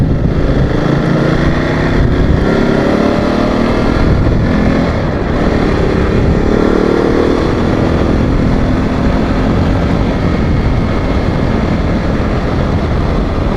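A motorcycle engine drones steadily at close range while riding, with rushing wind noise and slight shifts in pitch as it accelerates.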